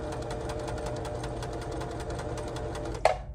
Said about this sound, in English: I'm approaching my front seam allowances. So I'm gonna sew over that.